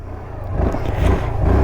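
A Hero Xoom 125 scooter engine idles just after starting, a low steady hum close by that swells slightly partway through the short stretch.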